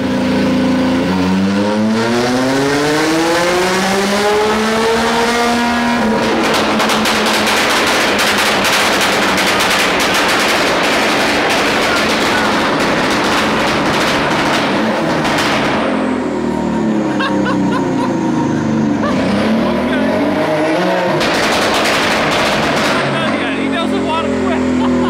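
A 350 hp Can-Am Maverick R side-by-side with an Evo Stage 5 tune and launch control roars at full acceleration, revving up through gears with loud crackling pops and bangs, very close, and people's voices are faintly heard.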